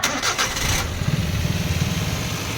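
A Suzuki DA64W turbo engine cranks and fires up, settling into a steady, close low rumble of idling with a faint rhythmic pulse.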